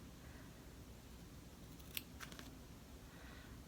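Scissors snip close around embroidery stitches, a couple of faint, crisp cuts in the middle of a quiet stretch with no talking.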